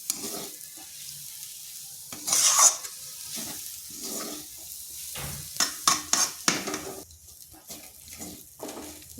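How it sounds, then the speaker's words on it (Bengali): Grated coconut is stirred in a hot pan for barfi sandesh, with a soft sizzle and intermittent scraping and clinks of a spatula against the pan. "এইভাবে আর বেশ কিছুক্ষণ নেড়ে নিচ্ছি"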